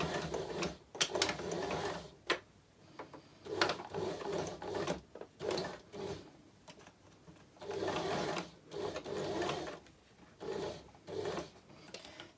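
A home sewing machine stitches a curved shirt seam at a slightly shorter stitch length, running in close, steady bursts separated by short pauses.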